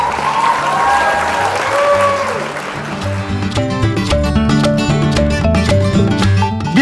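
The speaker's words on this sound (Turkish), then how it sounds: "Biz de bir alkış hak ediyoruz sanırım" Sustained applause from a crowd, a dense steady clapping that carries on throughout, with music rising underneath in the second half.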